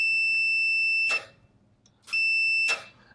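An Owon multimeter gives a steady, high-pitched continuity tone while testing a switch. It sounds twice: a beep of about a second, then a short pause and a second beep. Each tone ends with a brief rustle of contact.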